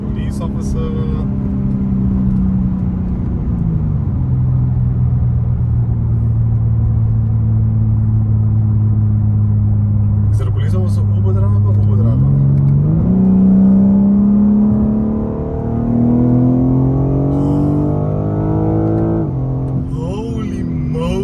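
A BMW G82 M4 engine drones steadily while driving, with its pitch rising and falling through gear changes and a louder surge of revving near the end, loud and continuous inside the car.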